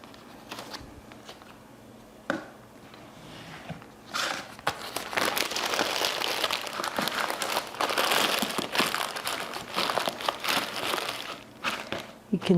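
Plastic bag crinkles and rustles as it is handled to store clay slip, starting with a few sharp crackles, then a dense, sustained crumpling close to the mic, with talk nearby.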